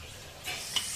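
Mustard seeds and cumin sizzling in hot oil: a steady close hiss with a few small pops, brief and alone.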